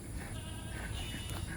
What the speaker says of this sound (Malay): Ya, itu kambing gitu nampaknya.